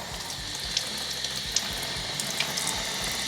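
Pinion gears from a Wheel Horse 8-speed transmission scrubbed of gear oil with water, a steady rush of running tap water with faint clicks of parts knocking every second or so.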